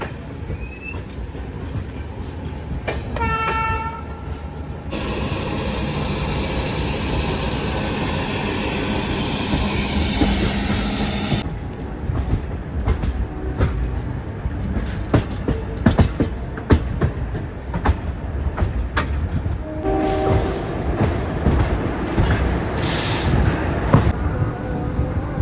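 Passenger train on the rail journey to Chotila in Gujarat, a loud steady rumble of carriages with wheel noise and rhythmic track clatter throughout, shifting in character partway through as the ride continues.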